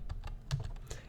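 Computer keyboard typing as a spreadsheet formula is entered, a quick run of close, crisp key clicks in an irregular rhythm with no voice.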